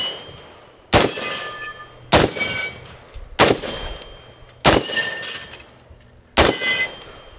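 Five sharp rifle shots from an FN SCAR crack out at roughly one-second intervals, each striking a steel target stand that rings and clangs metallically as the sound decays.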